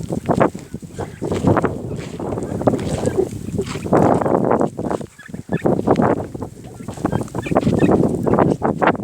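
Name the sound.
domestic turkeys gobbling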